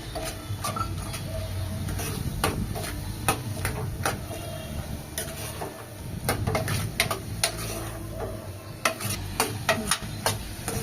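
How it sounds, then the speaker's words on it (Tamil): Ground masala paste sautéing in a pan for a garlic curry gives a steady sizzle, broken by repeated sharp spoon taps and scrapes against the pan in uneven bursts. "இப்போ நம்ம அரைச்சி வச்ச மசாலாவை இதில் சேர்த்துக்கலாம்"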